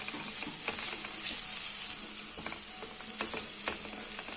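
Spice masala and tomatoes frying in a pan with a steady, even sizzle, close and moderately loud, alone without talk.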